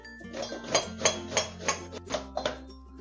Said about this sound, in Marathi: पीठ मळणार आहोत त्याच भांड्यात लगेच घ्यायचे, किसून घ्यायचे दुधी